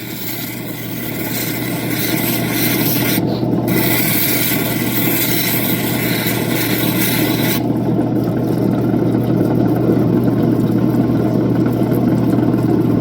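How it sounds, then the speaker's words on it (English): Opal stone pressed against a spinning polishing wheel: a continuous loud motor hum beneath a harsh, steady grinding rasp, with the scraping briefly easing and lightening partway through. "Just going to give it a quick rub on this wheel to see if we're even worth polishing."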